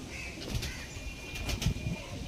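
A Lalshira pigeon, shown as a high-quality show bird; soft, faint cooing mixes with a couple of brief wing flutters close by, with no talk.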